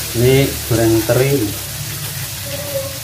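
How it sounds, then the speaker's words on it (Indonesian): Small salted anchovies fry in hot oil with a steady crackling sizzle, close and fairly loud, while someone speaks over it in short phrases. "Ini goreng teri"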